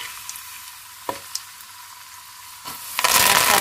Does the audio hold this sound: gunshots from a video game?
no